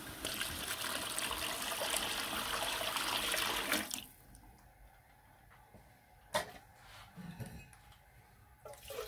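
Water poured steadily into a pot of soaked rice for a large batch of chicken pulao, a loud continuous splashing stream for about four seconds, then stopping, followed by quieter faint clinks and settling sounds.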